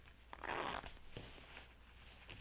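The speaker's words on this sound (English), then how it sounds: "we can test out our zipper" Metal zipper on a pair of home-sewn jeans pulled once in a quick rasping zip, close and fairly quiet, followed by a few faint clicks and rustles of denim.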